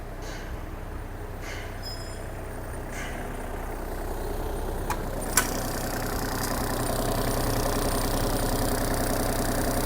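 Diesel engine of a Kubota U35 mini excavator idling steadily, a continuous low rumble with a faint knock, close and fairly loud, with a brief click partway through and no talk.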